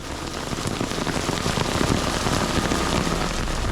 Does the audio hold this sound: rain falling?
yes